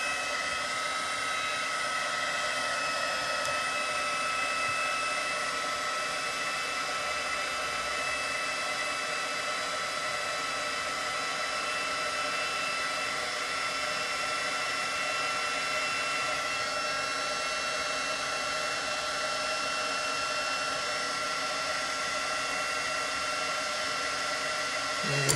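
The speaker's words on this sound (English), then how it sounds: "get my heat gun again real quick" A heat gun blows steadily on a watercolor resist card, a continuous close, even whooshing hum with a faint whine that never lets up.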